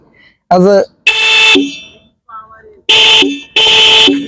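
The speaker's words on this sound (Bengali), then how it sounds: "তো এটা হইতেছে গাড়ির হর্ন" A motorcycle horn honks four times in short, loud blasts of uneven length, each with a bright buzzing tone; a brief electronic chirp comes between them.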